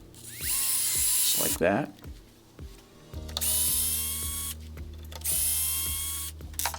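Power tool cutting threads into the body mount holes of a Kraton XL RC car: short bursts of high whining drill spin separated by pauses and clicks, close up, with someone talking between bursts.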